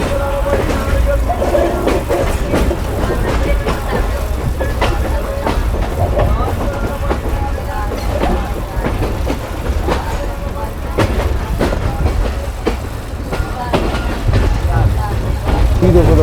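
The Millat Express running from Hyderabad toward Karachi, heard from inside the carriage as a loud steady rumble with rhythmic wheel clatter throughout.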